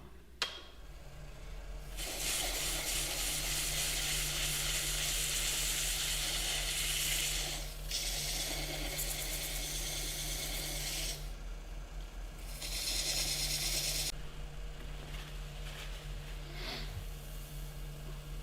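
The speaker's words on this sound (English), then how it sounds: "just going to turn the lathe speed back down and sand the bottom" Sandpaper works the bottom of a spalted beech piece spinning on a woodturning lathe. It makes a loud, steady close hiss over a low motor hum, with a short break partway through and a second sanding pass near the end.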